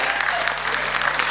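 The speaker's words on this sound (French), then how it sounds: "Vous pouvez applaudir Alexandra." Audience clapping at a live blind-test quiz show, a dense, continuous burst of applause from a close crowd with a voice briefly present underneath.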